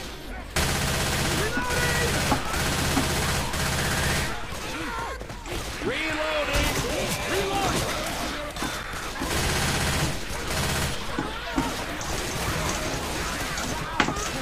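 Dense SMG gunfire in the video game Left 4 Dead 2, continuous loud bursts and rattling shots with brief gaps, mixed with game action noise while players talk over it.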